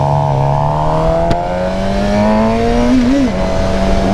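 A Suzuki GSX-R 750 motorcycle engine revs under acceleration, its steady whine rising before a clumsy gear change causes a brief stumble, heard close and loud.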